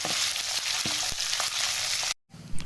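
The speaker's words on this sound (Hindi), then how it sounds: "और इसी के अंदर मैं डाल देती हूँ 1 चम्मच लहसुन कूटा हुआ, दरदरा सा कूटा है। और 4 अदद ये सुरख मिर्च है मेरे पास।" Coarsely crushed garlic and four dried red chillies fry in hot oil for a tadka, giving a loud, even close sizzle with a few crackles before it cuts off abruptly, then a brief quieter stretch follows.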